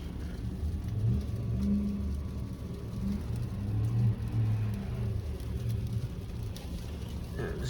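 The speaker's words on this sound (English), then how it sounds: "this car is trying to push off again" A car's engine revs as it strains to pull away in freezing-rain traffic in Toronto, a low droning rumble rising and falling over the wash of rain and wet road noise.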